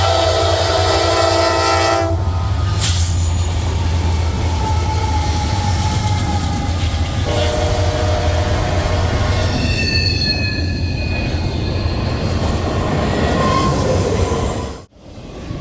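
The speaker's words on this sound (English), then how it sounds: "some old locomotives, such as MEC 7552, and some new ones, 4633 from Norfolk Southern" Diesel freight locomotives work the D&H railroad, among them MEC 7552, built in 1989 for CSX, and Norfolk Southern 4633, fresh from a rebuild. A loud, steady rumble carries horn blasts and squealing wheels, with no voices.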